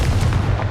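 Confringo blasting spell in Hogwarts Legacy, a loud booming explosive blast with heavy low rumble filling the whole brief moment, close and forceful, without talk.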